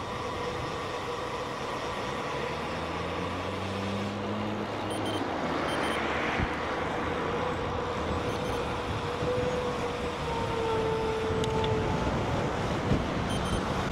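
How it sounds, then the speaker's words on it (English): Steady wind rushes past in a low, continuous roar by a roundabout, with faint traffic rumbling underneath and no voices. "Oh, it's windy."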